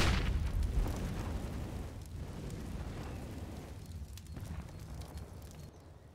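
A grenade goes off in Counter-Strike on the Inferno map, a loud boom at the start that rolls into a long, fading rumble and debris hiss. No voices in the game audio.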